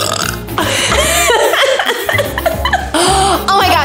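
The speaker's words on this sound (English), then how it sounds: "That was a good burp." A loud, drawn-out burp lasting several seconds, with a second burp near the end, set against light chuckling and laughter close by.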